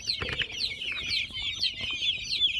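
About 21-day-old chicks cluck and cheep continuously nearby in a warmed brooder, a dense chorus of high peeping calls with a few lower clucks underneath.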